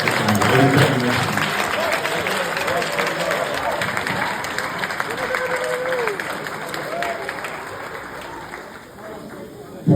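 Gala-night crowd applauds entrepreneurs in the room, a sustained loud clapping with voices and cheers woven through, easing off slightly toward the end.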